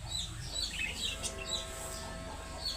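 A small female pigeon in a loft calls with soft coos, while chirps and tweets from other birds layer over a steady background of flock noise.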